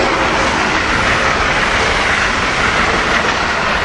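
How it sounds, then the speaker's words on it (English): Amtrak regional train led by an AEM-7 electric locomotive, number 907, roars past at close range with a steady, loud broadband rush and rail noise throughout, no pauses or voices. "Here we have another Amtrak train coming down. This has got to be a regional"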